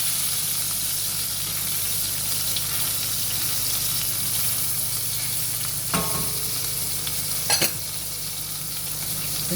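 Boneless chicken sizzles and fries steadily in a pan, a constant close crackling hiss with a couple of brief clatters of stirring near the end.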